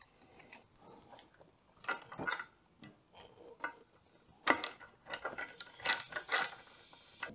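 A hand tool loosens bolts on a Honda Grom's bar bracket, making faint, irregular ratcheting clicks and small metallic clacks nearby.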